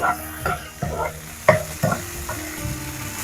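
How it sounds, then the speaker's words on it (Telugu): Tomatoes frying in a little oil for egg dosa, a soft sizzle broken by several distinct spatula scrapes and stirs in an uneven rhythm, close and fairly quiet. "టమాటాలు వేస్తున్నా వీటిని ఫ్రై చేసుకోవాలి"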